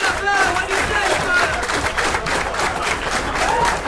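A wrestling crowd cheers and claps steadily in a dense, sustained roar of voices and applause around a match, with a commentator talking over it.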